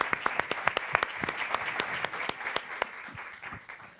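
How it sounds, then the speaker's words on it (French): Audience applause at a conference session on reuse and food, a steady patter of many hands clapping with sharp individual claps standing out, continuing evenly for several seconds before thinning slightly toward the end. "Je pense qu'on peut les applaudir."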